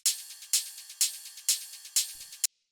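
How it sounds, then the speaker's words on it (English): Bright, crisp techno hi-hats ticking in a steady fast pattern, with a stronger open accent about every half second, loud and alone before stopping abruptly. "After that, we have the hi-hats"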